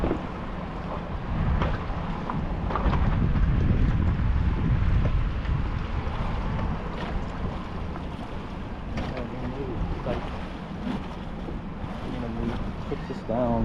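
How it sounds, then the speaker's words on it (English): Light wind on a fishing boat out on Tampa Bay, a constant rumbling buffet of air over the microphone with water and engine noise beneath, and a faint voice at times. "that wind's kind of light."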